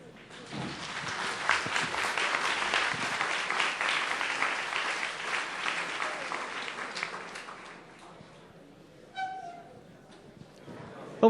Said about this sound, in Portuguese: Vamos aplaudir, então, os times finalistas.